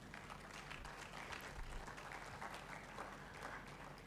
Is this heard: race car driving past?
no